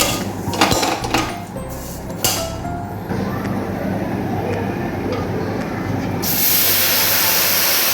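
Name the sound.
vermicelli frying in a pan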